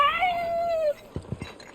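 A cat in Final Fantasy 7 Rebirth gives one drawn-out, falling meow, followed by a few soft short bumps and small sounds.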